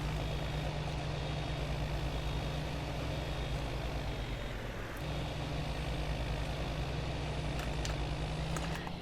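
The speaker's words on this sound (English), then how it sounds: "this is kind of a loud tractor" A tractor engine in the video game Farming Simulator 19 holds a loud, continuous low droning hum for the whole stretch, briefly dipping midway before resuming, with no talking.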